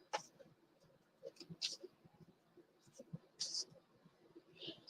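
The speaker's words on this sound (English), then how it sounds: "I'm going to give these cards a good shuffle." A deck of playing cards is shuffled up close and quietly, with soft riffling clicks and brushing taps in short uneven bursts over several seconds, no talk.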